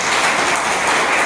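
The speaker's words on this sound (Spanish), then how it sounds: "Denle un aplauso al Señor" A church congregation applauding during a Spanish-language sermon, a brief, steady wash of loud clapping with no talk over it.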